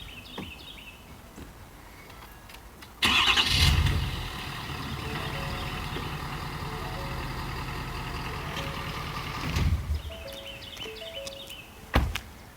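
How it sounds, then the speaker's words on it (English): Pickup truck on a Ramp Rack ramp system starts rolling forward with a sudden engine rumble and clunk, holds a steady low drone for several seconds, then a final thunk near the end, in a fairly quiet setting. "then you can go ahead and pull the truck forward."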